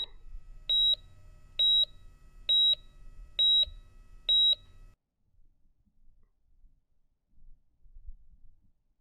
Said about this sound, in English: Just for a moment, I can almost hear a rhythmic beeping before it vanishes into nothingness.